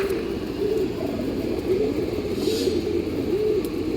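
Pigeons cooing close by, a repeated low rolling coo recurring every second or so against a steady background hum.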